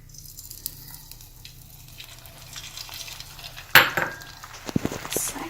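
Egg is poured onto a warm wrap puffing in a hot pan, giving a soft low sizzle that builds, with a sharp clatter of a utensil against the pan and a few small clinks afterward.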